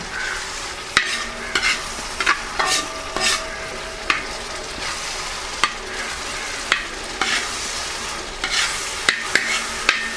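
Mutton head thoran mixture sautéing in a pan until light brown, a steady soft sizzle punctuated by regular sharp scrapes and knocks of a spoon stirring against the pan, close and clear with no talking.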